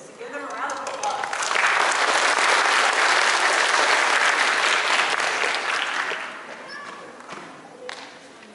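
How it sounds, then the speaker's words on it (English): A school audience breaks into loud applause for a group of student singers, swelling to a dense roar of clapping, holding strong for several seconds, then thinning out as a voice returns near the end. "So give them a round of applause."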